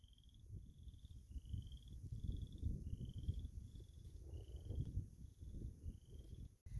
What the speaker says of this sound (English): can you hear the frogs? Those are called chorus frogs.